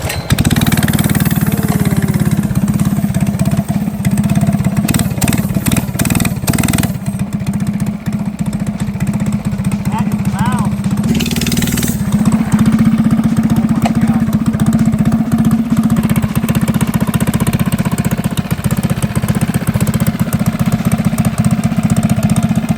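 FRP GMB100 mini bike engine running close by, a loud steady small-engine drone throughout with a few throttle blips and a revving surge midway, no talk.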